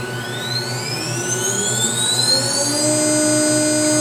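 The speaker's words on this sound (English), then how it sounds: "Here you can see, we're gonna turn on the spindle." A CNC router spindle spins up as speed is adjusted, its whine rising steadily over a constant mechanical hum. It sounds loud and close, with no speech.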